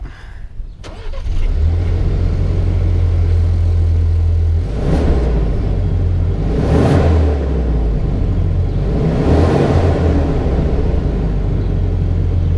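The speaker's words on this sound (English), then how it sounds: "We're gonna give you a little exhaust note for the Ford" A Ford pickup truck engine idles steadily with a low, quiet, even exhaust rumble, rising in a couple of slow swells as it's revved lightly; no voices.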